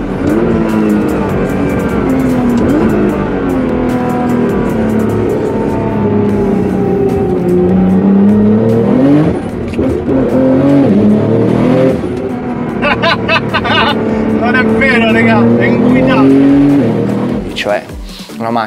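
Highly tuned 1300 hp Nissan GT-R on a race track, engine roaring and shifting pitch as it accelerates and lifts, with an Italian-speaking voice talking over the car throughout.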